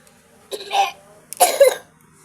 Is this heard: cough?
yes